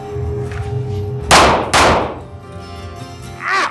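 Two loud, sharp pistol shots from a custom SIG P365 with an improved grip, fired about half a second apart at close range, followed by a brief metallic rattle.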